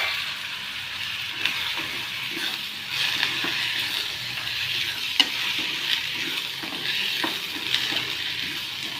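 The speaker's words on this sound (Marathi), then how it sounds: "आता यामध्ये आपण तुरीचे दाणे भिजवलेले टाकूया." Soaked pigeon pea seeds hit frying spiced masala and are stirred, producing a steady close sizzle with scraping and occasional clinks of a spoon against the pan.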